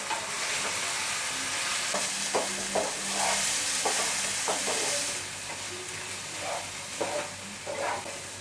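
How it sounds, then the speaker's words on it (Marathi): Chopped onion and tomato softening in hot oil in a pan for masala vada pav, a steady sizzle broken by repeated spatula scrapes and stirring, close and moderately loud with no talking. "आता कांदा आणि टॅमॅटो आहेत ना ते आपल्याला मऊ करून घ्यायचे आहेत."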